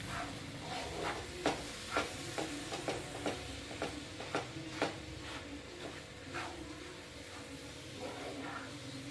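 Spoon stirring banana halwa in a pan, giving a run of soft scraping taps at an uneven rhythm over a steady low hiss, close and fairly quiet, with no talking.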